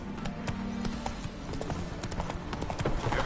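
Galloping horse hoofbeats in The Witcher video game, a fast steady clip-clop rhythm, close and clear with faint background ambience and a brief voice.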